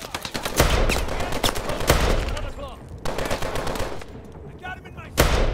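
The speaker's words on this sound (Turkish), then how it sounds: "o kadar patlattık, etraftan hiçbir ses mi gelmez?" Gunfire and explosions in the Call of Duty Advanced Warfare video game, with repeated loud shots and bursts of automatic fire over a battle din, and a few sharp blasts standing out.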